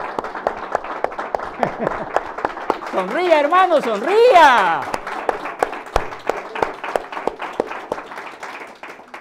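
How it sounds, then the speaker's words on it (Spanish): Church congregation at a Las Vegas service clapping in a loose, rhythmic pattern, sharp individual claps rising and falling while someone speaks and sings over it midway. "un aplauso al rey"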